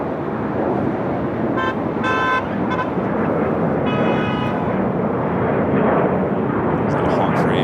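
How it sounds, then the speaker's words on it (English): Short vehicle horn honks sound out at LAX airport over a constant roar of wind and jet engine noise, coming in a few brief separate bursts. "Is that a honk for Avia?"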